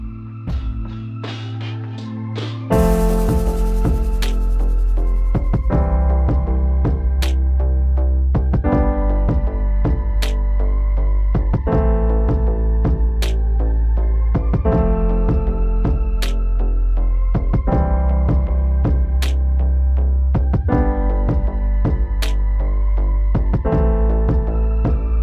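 Piano chords follow a backing track at a steady 80 beats per minute, playing a slow pop ballad. A lone chord comes first, then a full band with a regular drum pulse joins in and plays loud and continuous throughout.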